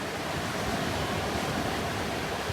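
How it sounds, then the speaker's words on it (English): Ocean surf at a Northeast Florida beach, with water rushing back out: a continuous, even roar of breaking waves and wash that fills the sound without any distinct peaks or voices. "That water's all rushing out"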